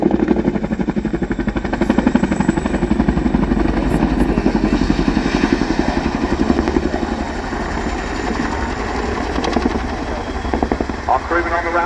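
An RAF Chinook helicopter comes in to land at an air show, its loud, close, throbbing twin-rotor beat steady throughout with engine roar and talking beneath it.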